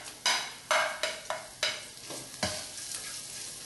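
Chopped onion, curry leaves and green chili sautéing in a pan for potato-stuffed bread pakoda filling: a steady sizzle broken by several sharp stirring scrapes, close and fairly loud, with no voices.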